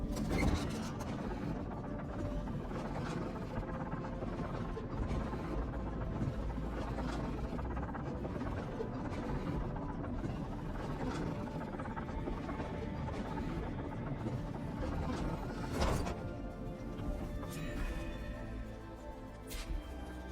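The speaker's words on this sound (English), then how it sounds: "An elevator." Elevator machinery in Horizon Forbidden West, in an old flooded city, runs as a steady, dense mechanical rumble and whir throughout, with a brief clank near the end and no talking.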